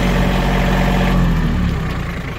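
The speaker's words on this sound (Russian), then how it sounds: "очень резво трактор поворачивает практически на одном месте" An Iseki GEAS25 Japanese 25-horsepower mini tractor with automatic transmission, its engine running in a steady, loud, close drone with a low throb and no break.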